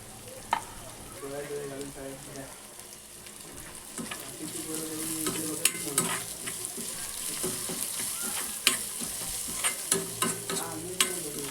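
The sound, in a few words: onion sautéing in a pan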